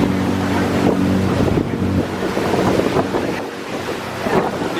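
A boat runs over choppy sea water near the Florida Keys, with a continuous engine drone, splashing and slapping of waves against the hull, and heavy wind buffeting the microphone throughout.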